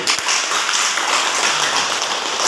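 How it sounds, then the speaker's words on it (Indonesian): Classroom audience clapping for two students at a school teaching practice session, a steady dense burst of applause filling the whole moment with no voices over it. "Aplaus dulu buat keduanya dulu."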